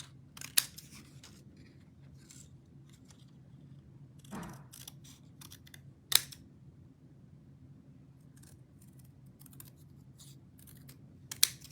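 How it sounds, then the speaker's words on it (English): Paper snips cut paper close to stamped words in a home paper-craft session: a handful of sharp, close snips scattered through otherwise quiet room tone, with no talking. "I'm going to cut this pretty close to the words"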